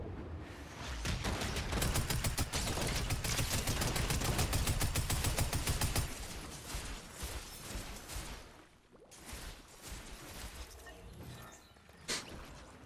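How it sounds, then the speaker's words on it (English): Rapid automatic gunfire from enemies behind the player in a video game, a dense loud burst of continuous shots for several seconds, then scattered bursts and single shots continuing at a slightly lower level. "there's people shooting at me behind"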